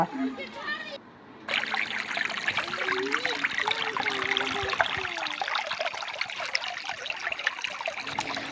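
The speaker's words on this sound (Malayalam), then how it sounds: "ആ ഒരു നാച്ചുറലായിട്ടുള്ള വെള്ളം കളകളം പാടുന്നൊക്കെ പറയില്ലേ" Clear forest stream babbling over rocks on a Nelliyampathy hill trip, a steady close trickling and gurgling that runs throughout, with a voice briefly heard over it.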